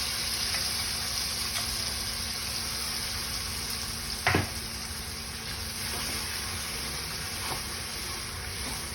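Tomato puree frying in a pan for a Kashmiri-style paneer dish, a soft steady sizzle and bubbling hiss with an occasional brief clink or spatter, no talking.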